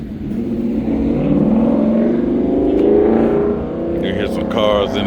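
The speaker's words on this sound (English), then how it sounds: "You hear some cars in the background." Cars passing in the background at an evening motorcycle gathering outside a motorcycle gear store, a loud engine swelling and fading by close, with a brief high-pitched squeal near the end.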